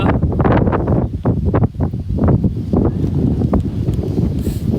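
Gusty wind buffets a microphone outdoors at Khao Yai on a cold day, a loud, steady low rumble with surging gusts and no voices.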